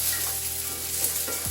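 BBQ jackfruit sauce sizzling in a pan, a continuous close hiss with a faint stir or scrape, no voices.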